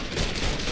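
Video game gunfire in Mafia III: a dense, continuous burst of shots, loud and close, with no gaps in the short stretch.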